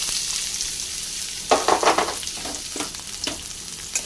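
Chopped onion and cumin hit hot oil in a pan used for cooking catla fish, a loud steady sizzle with bursts of crackling and stirring, close up and without voices.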